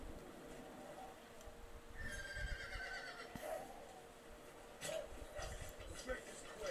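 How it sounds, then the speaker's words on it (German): A horse neighs in the video game Red Dead Redemption, a short whinny rising over a faint outdoor game soundscape with scattered thuds and clicks, low in level. "Erschreckt mein Pferd nicht."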